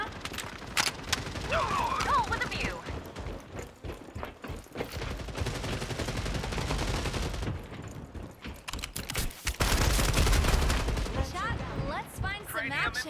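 Rapid gunfire from a long-scoped gun in the FragPunk video game, sharp repeated shots in bursts and volleys across the clip, with someone talking over parts of it.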